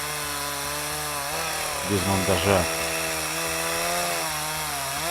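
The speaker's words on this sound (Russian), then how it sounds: "Пила у меня, конечно, мощная. Вообще штиль мне очень нравится." A powerful Stihl chainsaw cuts wood for kokora timber, its engine droning steadily near the microphone with a brief louder surge of cutting in the middle; someone speaks briefly over it.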